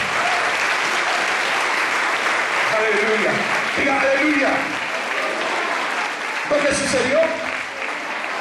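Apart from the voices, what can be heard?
church congregation applause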